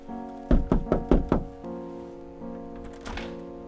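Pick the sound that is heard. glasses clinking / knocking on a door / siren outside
knocking on a door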